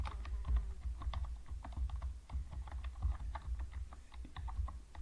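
Someone types on a computer keyboard while entering data into an Excel spreadsheet, giving a quick, continuous run of close, crisp key clicks over a low hum.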